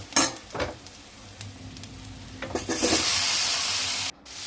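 Onions and vegetables sauté in a pan for mor kuzhambu, with turmeric and salt added. Soft scraping stirs come first, then a louder burst of sizzling that cuts off abruptly, fairly close and without talking.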